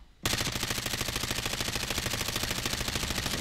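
A Lachmann Sub submachine gun in a video game fires one sustained, rapid automatic burst with no recoil control. It starts abruptly after a short silence and runs loud and evenly to the end.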